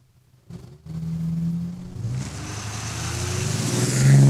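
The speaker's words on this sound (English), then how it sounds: "We've got the diesel. That's right, the dually going down the track." A diesel dually pickup truck races down a drag strip, its engine roaring loud and steady after a brief quiet start and building in intensity toward the end.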